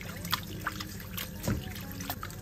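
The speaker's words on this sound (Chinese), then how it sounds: "然后拿到流动的清水下面给它清洗干净" Chicken pieces rinsed under a running kitchen tap, a soft steady trickle of water with light splashes and faint handling sounds.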